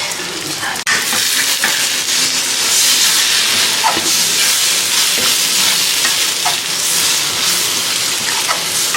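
Moringa leaf and egg fry stirred in a hot pan, a steady close sizzle and hiss of frying with occasional scraping stirs, continuous throughout with no talk.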